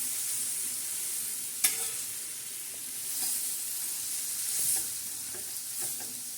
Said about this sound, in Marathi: आता आपण छान असे हे कारले आता हलवणार आहोत